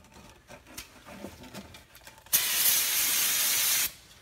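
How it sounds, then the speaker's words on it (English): Brake cleaner sprayed onto the rear brake parts of a Ford F-150 during a pad and rotor job, a loud steady hiss lasting about a second and a half, preceded by faint scraping and handling noises. "use a little brake clean"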